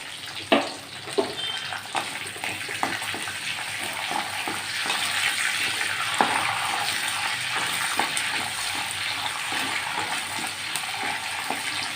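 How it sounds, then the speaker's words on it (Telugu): Green chillies, dried red chillies and curry leaves fry in oil for curry leaf rice, giving a steady, close sizzle with a few sharp pops and spatters near the start. "పచ్చిమిర్చి ఎండుమిరపకాయలు కొద్దిగా కరివేపాకు ఇవి ఫ్రై అవ్వాలి"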